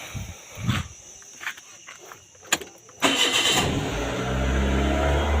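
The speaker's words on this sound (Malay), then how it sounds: "Okey, saya start kereta." A car engine starting during a Malaysian automotive air-conditioning relay lesson: a few clicks and knocks, then the starter catches and the engine settles into a steady, loud idle that continues to the end.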